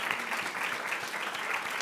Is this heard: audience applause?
yes